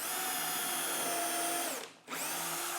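A power drill bores holes for cabinet hardware with a steady high whine, pauses briefly near the end, then spins up again.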